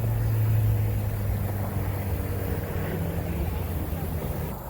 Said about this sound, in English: Aside from the cars and all the noise